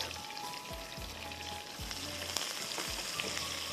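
Onions frying in hot oil for a bakla recipe, a steady close sizzle with periodic scraping stir strokes, and no talking.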